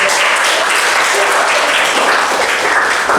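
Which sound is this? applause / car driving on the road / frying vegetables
applause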